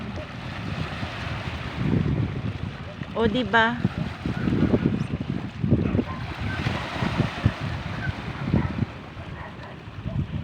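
Wind rushes and sea waves wash in the background at the seashore, with a person talking over them and a brief whistle-like tone partway through.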